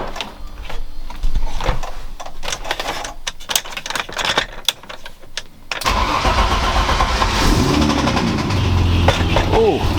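After a stretch of clicking and rattling, a BMW E30 with a turbo M20 engine cranks and catches, settling into a steady idle that continues to the end.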